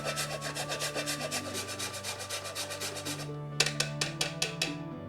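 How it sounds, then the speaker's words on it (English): Frozen ginger is rubbed against a grater in a steady, close scraping rhythm, ending in a few sharper, separated strokes, with no talk over it. "I'm going to season this first with that frozen ginger, which is really easy to grate into a serious powder when it's frozen."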